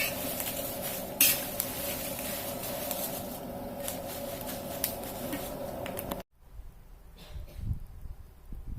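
Chilies dry-roasted half a kilo at a time in a pan, with steady sizzling and scraping stirs of a utensil against metal, a sharp clank early on, then a sudden cut to quieter, sparser stirring.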